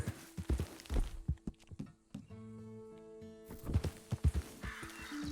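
A horse in the video game Red Dead Redemption 2 slows to a trot, its hooves clip-clopping in an uneven rhythm with a brief whinny, fairly near and quiet, over soft background game music.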